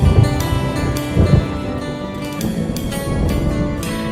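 Thunder rolls through a storm as a sound effect in a classic country song, a low continuous rumble with crackling rain-like texture and swells, fairly loud and steady throughout.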